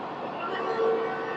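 A train pulls out of Nawabshah station on the main line, a steady broadband rumble of wheels and carriages with a brief tonal horn-like note midway, continuous and fairly close.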